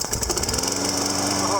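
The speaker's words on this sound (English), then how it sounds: "Found a clogged jet in this Kohler engine. Let's give it its first start here." A Kohler Courage engine on a Sears Craftsman lawn mower, just cleared of a clogged carburetor jet, sputters and catches, settling into a steady, loud running drone with a rapid mechanical rattle.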